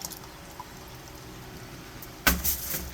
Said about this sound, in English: we're going to take some of the excess water and pour it back into the hot water bin